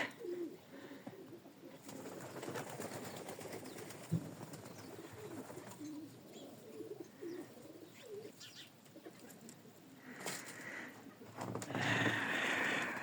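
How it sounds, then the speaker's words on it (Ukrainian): Pigeons just released outdoors in winter snow coo and rustle nearby, with soft chirps and occasional wing flaps over a faint, steady background. "Тут голубчики гуляють. Тільки що випустив."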